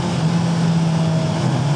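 A Honda CBR650R motorcycle's exhaust drones steadily while cruising through Bangalore at night, a continuous low engine tone with wind rush and no speech.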